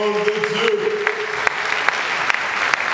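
An audience at a French-language religious conference breaks into steady, dense applause with sharp individual claps, while a voice rises over the start of it.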